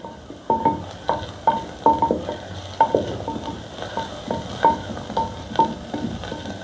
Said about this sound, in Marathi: आपण आलं लसूण पेस्ट आणि कांदा व्यवस्थित परतून घेतला